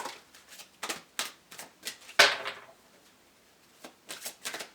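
Oracle Wisdom deck cards riffled and shuffled by hand in a quiet room, a series of short papery bursts in an uneven rhythm with one louder snap partway through, close and clear with no talking.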